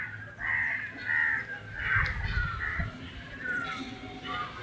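Harsh bird calls repeat in loose bursts over a low rumble, several birds cawing near and far in an open outdoor space in Keoladeo National Park, India, in the morning.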